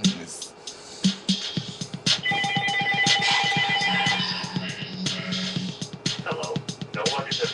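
A telephone rings indoors with a rapid electronic trilling warble that repeats in bursts, fairly loud and close over some background noise.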